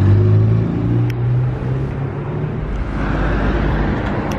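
Ferrari 488 Pista Spider supercar driving on the road, its engine rumbling steadily at close range with a low droning tone and road noise throughout, no talking.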